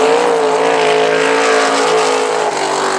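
Race cars lapping South Texas Speedway at night, a loud continuous engine roar with steady harmonic drone as cars run close, no voices over it.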